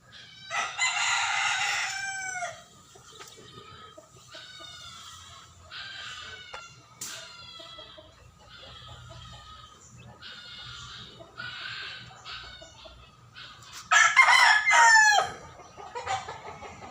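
Chickens cluck and chatter repeatedly in short bursts, with a rooster crowing loudly near the start and again toward the end.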